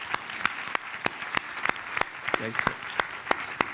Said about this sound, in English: I would like to give a big applause to all the daring people who organized this